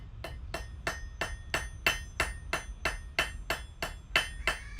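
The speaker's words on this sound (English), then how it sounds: "I'm using the flat side of my hammer at first." Steady, evenly spaced blacksmith hammer blows on hot metal, about three per second, loud and close, each strike with the hammer's flat side leaving a brief metallic ring.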